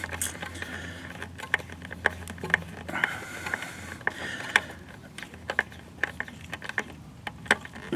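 A screw-down wire connector on a 12 volt low-voltage garden path light is tightened, giving a steady series of close ratcheting clicks over a light mechanical rasp.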